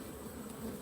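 Honey bees drone in a steady, dense buzz at an opened hive troubled by beetles and wax moths, a brief low hum heard up close with no voices.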